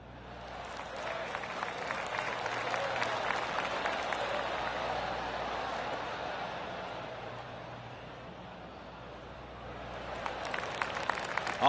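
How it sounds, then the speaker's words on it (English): Golf claps ripple from a gallery around the course in the PGA Tour 2K25 video game, a steady spread of light applause lasting throughout, swelling midway and sharpening again at the end. "I can hear the golf claps around the course"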